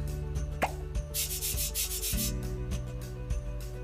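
Cartoon toothbrushing effect from a kids' dress-up game app, a steady bristly scrubbing rub with repeated soft strokes over light background music, no talking.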